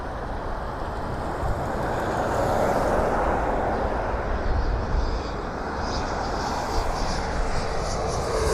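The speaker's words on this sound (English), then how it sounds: "We have another plane coming in here." Air Canada CRJ jet arriving at Toronto Pearson airport, heard as a steady, fairly distant broadband engine roar with a faint rising whine, no talk.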